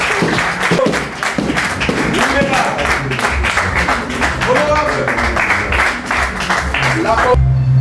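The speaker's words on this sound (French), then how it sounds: "Veuillez les manifester dans des acclamations." An audience at a Congolese press union congress applauds and cheers, the clapping mixed with crowd noise and voices, loud and continuous.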